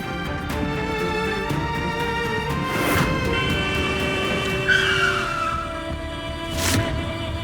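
A car brakes hard and its tires skid on a road near a pedestrian, a loud sustained screech over street noise that fades into a brief second squeal.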